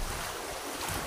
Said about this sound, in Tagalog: tumatalpok ang alon sa amin